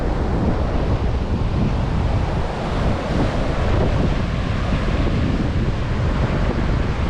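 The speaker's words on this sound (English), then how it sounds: "some waves are coming over this 4 or 5 foot seawall" Hurricane surf pounds and spills over a four- to five-foot seawall on the Florida coast, a loud continuous roar of breaking water with heavy wind buffeting the microphone throughout.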